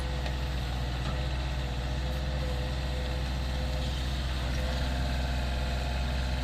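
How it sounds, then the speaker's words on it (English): Kubota KH-026 mini excavator with a 3-cylinder, 26-horsepower Kubota diesel engine running steadily at idle during a burn test, a constant low droning rumble with no talk. "The Kubota KH-026 has a 3-cylinders Kubota diesel engine."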